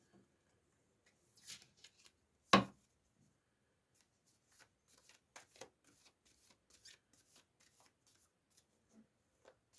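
Tarot cards shuffled by hand: a sharp slap of the deck, then a run of soft, quick riffling and sliding flicks, close and quiet in a silent room.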